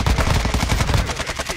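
Loud, rapid automatic gunfire in a multiplayer shooter, a dense close-range burst of repeated shots running continuously with no pause.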